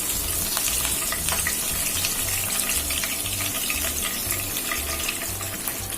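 Ivy gourd fries with green chillies and curry leaves in a pan, giving a steady, dense sizzle and bubbling that continues throughout with occasional stirring scrapes and no talking.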